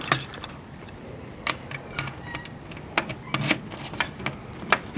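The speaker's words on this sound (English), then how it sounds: "Now I'll put the keys in." Keys jangling and clicking into the locks of a 1930s novelty crane merchantman machine, a close series of sharp metallic rattles and clacks coming in uneven bursts.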